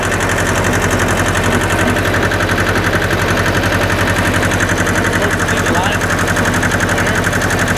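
An old diesel tractor that sat parked for years idles nearby, a loud, steady, rapid knocking chug that fills the whole stretch without pause.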